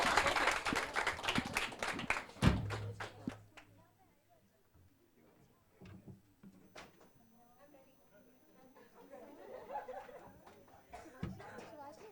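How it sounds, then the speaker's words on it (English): A crowd claps and cheers loudly for a couple of seconds after a dance performance, the clapping fading into murmuring chatter and scattered laughter. "Can we have a round of applause for that?"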